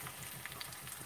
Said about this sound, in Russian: Лук прям жарится до такой вот